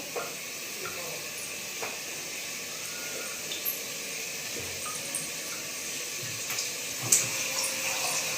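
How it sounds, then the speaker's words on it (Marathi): A glass of water poured into a pot of mutton for biryani, giving a steady hissing, splashing rush that runs evenly throughout at moderate loudness, with a few faint clinks near the end. "थोडंसं एक ग्लास पाणी टाकते मी याच्यामध्ये"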